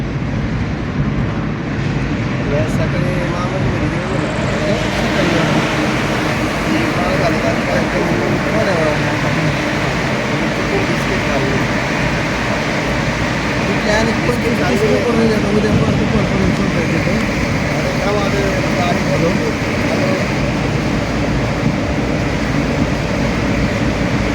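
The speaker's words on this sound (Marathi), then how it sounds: "बघा आता बोगदेमध्ये जाते गाडी" A car on the Kolhapur–Satara–Pune highway heads into a tunnel, with a steady, loud roar of engine and tyre noise filling the cabin and holding evenly throughout.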